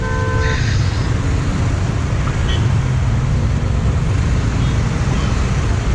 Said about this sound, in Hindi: सो ट्रैफिक ज़्यादा है.